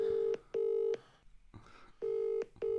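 Telephone call being placed, with a clear electronic ringback tone sounding in paired pulses, two double rings separated by a short silence.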